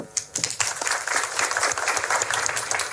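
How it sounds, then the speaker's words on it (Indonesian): An audience at a digital skills training session breaks into lively applause, dense, crackling clapping that swells quickly after a few scattered first claps and holds steady throughout. "sekali lagi kita beri tepuk tangan yang meriah untuk orang-orang hebat yang ada di sini"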